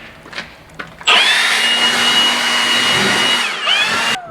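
An air blower roars on abruptly and holds a steady, loud hiss as it blows fertilizer dust off farm equipment, dipping briefly near the end before cutting off; a few clicks and knocks come just before it starts.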